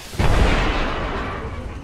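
A grenade goes off in the Apex Legends battle royale shooter, one heavy close boom with a deep low thump that rumbles and fades over nearly two seconds.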